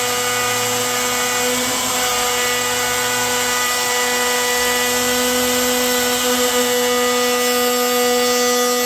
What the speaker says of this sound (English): we're just going to go up to this guy and use the plunge router, and we will route this down nice and easy